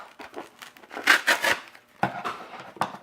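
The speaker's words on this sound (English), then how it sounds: "We're gonna cut it around here. Again, same thing, cut it in and cut it like that." A foam pool noodle is sliced by hand in a handful of close, scratchy rasping strokes, short bursts with brief pauses between them and no talking.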